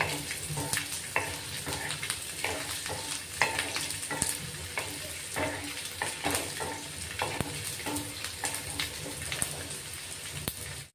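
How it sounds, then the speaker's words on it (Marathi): Garlic sizzles steadily in hot oil for a chutney, a continuous crackling fry with occasional stirring scrapes, close and fairly loud with no one talking. "लसूण तेलात परतून घ्यायचा"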